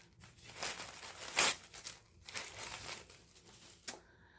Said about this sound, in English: so let me just unwrap this here real quick